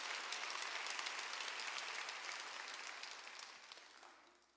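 A congregation at a rainy outdoor stadium revival meeting applauds together, a dense, even roar of clapping that gradually fades away toward the end.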